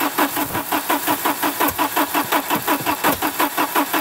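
An old Volvo engine, unstarted in ten years, cranks over in a fast rhythmic whirring chug, repeating steadily for several seconds, with a couple of sputtering catches as it tries to start on a weakening battery.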